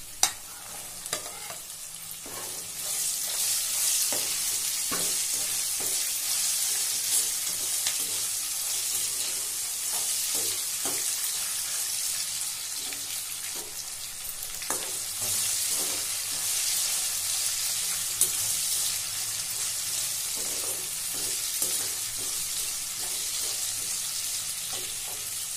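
Vegetables sizzle and fry loudly in a pan for broken wheat biryani, a steady close crackle with repeated scraping stirs of a spoon throughout, and no talking over it.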